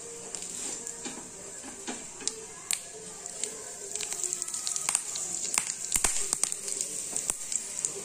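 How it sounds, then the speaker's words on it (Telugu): Tempering seeds and asafoetida fry in hot oil for tomato bajji, giving a soft, steady sizzle with scattered small crackles and pops that grow a little busier toward the end. "పోపు గింజలు వేగగానే కొంచెం ఇంగువ వేసేయండి"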